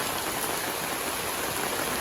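Rain falling steadily at a village home during the monsoon, easing after a heavy downpour in the night; a dense, even hiss of drops on surfaces, close and continuous with no voices.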